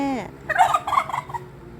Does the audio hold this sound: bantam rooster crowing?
yes